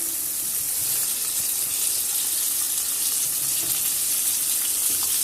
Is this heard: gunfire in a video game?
no